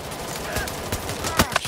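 Bursts of gunfire in Payday 3 during a bank heist shootout with SWAT, rapid overlapping shots crackling close and loud amid scattered talk.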